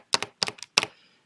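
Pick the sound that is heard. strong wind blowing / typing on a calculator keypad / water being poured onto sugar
typing on a calculator keypad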